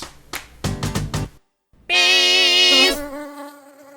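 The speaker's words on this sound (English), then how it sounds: "Those buzzing, stinging insects that you often see are actually yellow jackets" Stinging yellow jackets buzz in a short burst: some brief scratchy rustles first, a pause, then a loud, close, tonal whine of wings holding for about a second before fading into a lower hum.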